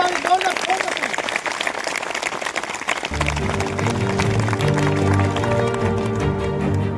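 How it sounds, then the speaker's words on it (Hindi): Audience applause at a political rally in Chhattisgarh, a loud dense clapping that runs for about three seconds before music with steady tones takes over and continues to the end. "जोरदार तालियों से सम्मान करना चाहता हूँ"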